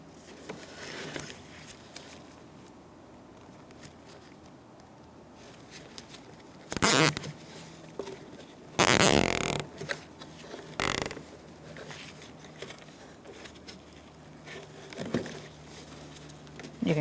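A zip tie ratchets tight in a few short, bright zipping bursts while a camera wiring harness on a Buick Encore is fastened, amid quiet handling noises.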